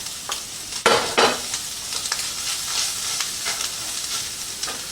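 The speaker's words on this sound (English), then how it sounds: "We get to stir back in our vegetables." Vegetables and beans being stirred back into crispy shredded beef frying in a pan, a bright steady sizzle with a few louder scraping bursts of the spatula near the start, close and unaccompanied by speech.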